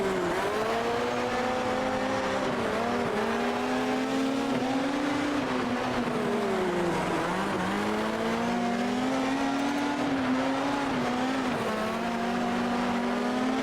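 Race car engine on a dirt track in World of Outlaws 24: a loud, continuous engine drone that rises and falls in pitch as the car accelerates and eases off, heard alone without talk.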